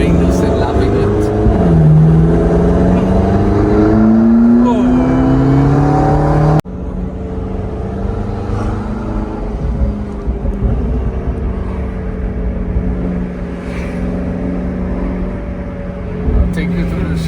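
A McLaren 650S sports car engine rumbles loudly and steadily with rising and falling revs, a sharp rev sweep early on, then a lower droning note continuing as the car moves, likely echoing through an underground car park.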